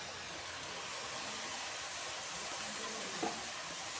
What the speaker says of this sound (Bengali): সব একসাথে নেড়ে চেড়ে কষিয়ে নেব।